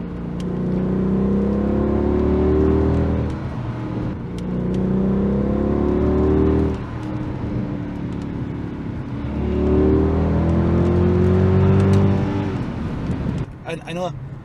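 A Mercedes W211 E63 AMG with the M156 engine and secondary cats deleted roars through repeated hard pulls in a drive. Each burst of rising exhaust note is followed by a drop as it shifts. The sound is loud and close throughout.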